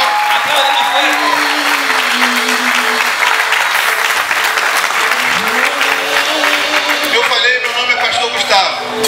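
A church congregation claps steadily and energetically throughout, with shouts and voices mixed into the sustained applause.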